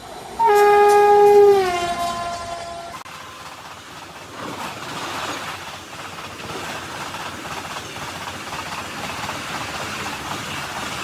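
An express train hauled by a WAP7 electric locomotive arrives at a platform. A loud horn blast sounds for about a second, then a steady rolling rumble of wagons continues.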